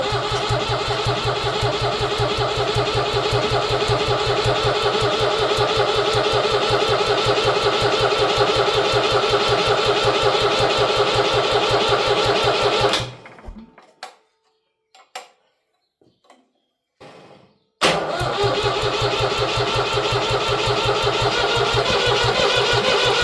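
A rebuilt David Brown 885 tractor diesel engine runs with a loud, steady, close-up clatter, stops for several seconds with only faint clicks, then fires again and settles straight back into the same rhythmic running.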